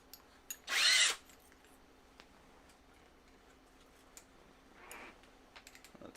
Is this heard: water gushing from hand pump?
no